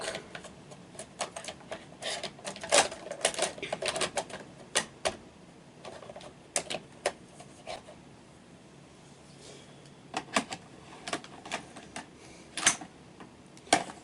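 Sharp, irregular clicks and clacks from a Bond knitting machine row counter, with brief quiet gaps between bursts, close and fairly faint, with no talking.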